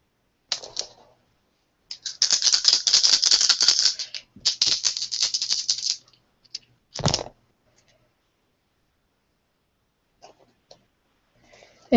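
Dice rattle and clatter across a tabletop during a board game, coming as a couple of short rolling bursts with a sharp thud, then near silence.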